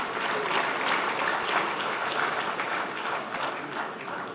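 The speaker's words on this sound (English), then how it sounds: "Give him a big hand of applause." Sustained applause from an audience honouring a traditional ruler at a formal ceremony, a steady dense patter of many hands clapping throughout at an even level, with no voices rising above it.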